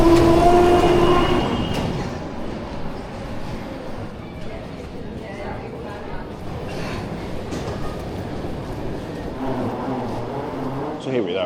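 A train rolls in and slows with rumbling and a brief wheel squeal at Copenhagen Airport station, while a recorded announcement and some voices are heard over it.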